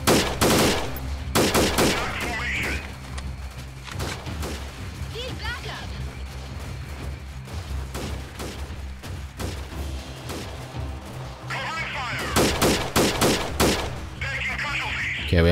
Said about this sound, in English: I'm not entirely sure where I'm being shot from to take that much damage.